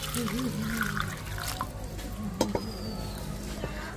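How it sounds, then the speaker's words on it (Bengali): Water is poured over raw rice in a bowl to wash it for chicken fried rice, a close, steady splashing and trickling with a brief clink partway through, under someone speaking. "প্রথমে চালটা ভালো করে 2-3 বার জল দিয়ে ধুয়ে নেব। জল দিয়ে দিচ্ছি।"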